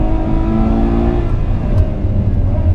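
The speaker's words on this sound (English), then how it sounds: "I'm sure you can hear those gear shifts, they're explosive." A Ferrari 812 Superfast's engine roars up close as it accelerates on a track, its note briefly breaking and rising again between explosive gear changes.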